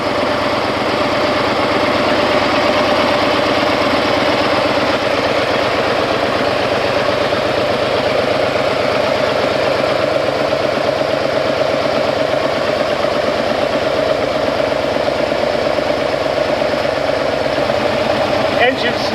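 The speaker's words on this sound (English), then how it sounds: "Engine's starting to run smoother." A Harley-Davidson motorcycle engine idles steadily during an HHO carbon cleaning treatment, a loud, even, throbbing rumble that continues unbroken for about nineteen seconds nearby.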